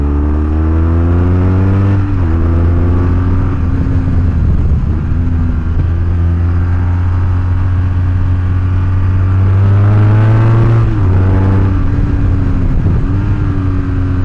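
A BMW R1200GS motorcycle with a Remus exhaust rides along with a loud, close engine drone that rises and falls through several rev sweeps and gear changes, and no talk.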